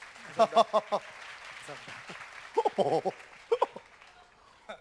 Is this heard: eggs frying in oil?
no